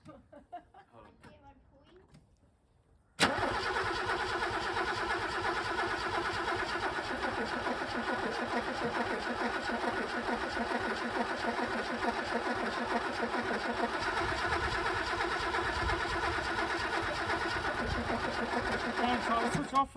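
A classic car's engine cranks and fires after sitting unused for 20 years, then runs loud and steady close by, with people talking under the engine noise.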